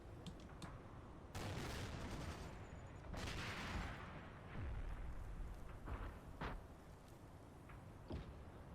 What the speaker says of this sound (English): Plenty of fire going out.